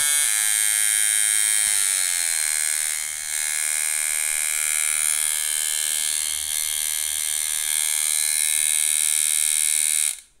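Pope Irons T3X tattoo machine running on a short stroke, a steady loud electric buzz with dense harmonics that holds without break for about ten seconds, close by and alone.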